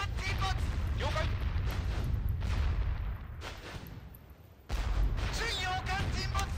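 Naval gunfire in the World War II strategy game Teitoku no Ketsudan 4 comes as rumbling booms and blasts that sound in bursts, with a quieter lull in the middle, and voices call out over the battle noise.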